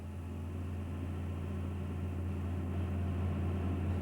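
A Massey Ferguson 8160 tractor engine running steadily at a raised throttle, a continuous low droning hum and rumble with a slight rise in level, heard from inside the cab, no talking.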